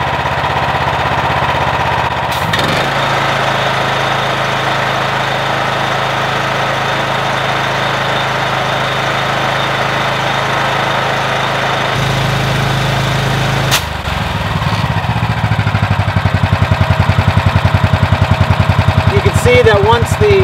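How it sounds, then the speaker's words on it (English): A gas-powered Honda engine drives a big-CFM DIY air compressor, chugging steadily up close; its tone shifts partway through as the compressor head kicks in and loads the engine, with someone talking over it. "we can drop the unloader valve so the compressor head will kick in"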